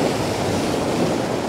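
Waves wash in at Turimetta beach in Sydney, a continuous, fairly loud hiss of moving seawater with a light wind rumble and no voices.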